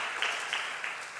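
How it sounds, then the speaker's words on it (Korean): A church congregation claps in welcome for a guest during a Sunday service, a brief burst of fairly faint, steady applause with a few louder accented claps. "박수로 환영해 주시기를 바랍니다"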